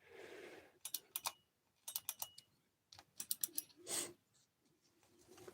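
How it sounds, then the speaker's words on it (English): Clicky buttons on an audio mixer are pressed in quick bursts of sharp, crisp clicks, several in a row, then a pause, then more. They are close and fairly quiet, with no talking. "These are very satisfying clicky buttons."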